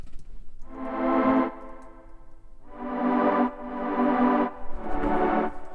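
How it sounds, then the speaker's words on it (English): A sustained electric guitar chord with a slight reverb is strummed several times in separate swells, each ringing out fully before fading, with no talking over it. "When you get like a tiny bit of reverb like that, it kind of keeps the whole chord sound kind of flowing"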